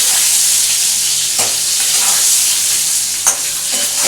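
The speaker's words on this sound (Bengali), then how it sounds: "একটু গ্যাসটা কমিয়ে ভাজছি।" Boal fish curry with homemade lentil dumplings frying in a pan on low gas, a loud continuous sizzle with two brief scraping stirs, no talk.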